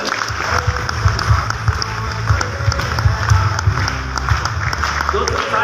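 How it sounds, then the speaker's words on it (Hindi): Loud, dense applause from a conference audience at a Modicare regional conference in Goa, continuing steadily throughout with crowd noise and some voices mixed in. "जोरदार तालियां बजाएं"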